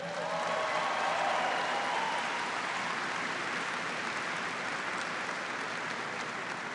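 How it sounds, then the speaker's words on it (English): Audience applause for civilian staff led by Jim Cunningham during a surprise visit by Barack Obama, a steady, even wash of many hands clapping that fills the space at moderate level, without talk. "Give them a big round of applause."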